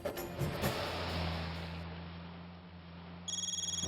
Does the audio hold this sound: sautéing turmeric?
no